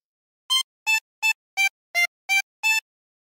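Tremolo harmonica with 16 holes playing phrase 2 of the Squid Game theme: seven short, evenly spaced reedy notes with a wavering shimmer, played solo and clearly, followed by silence.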